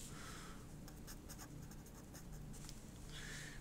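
A pen drawing a diagram while working a physics free-response problem, giving faint scratchy strokes in short bursts over a low steady background, with no talking.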